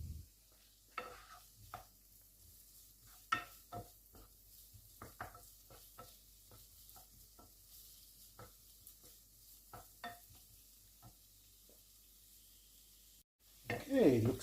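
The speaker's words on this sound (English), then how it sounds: "You can hear the sizzling." Onions and garlic sizzle softly in a pan while being stirred, with scattered scraping and clinking taps of a utensil over a low frying hiss, ending in a louder clatter.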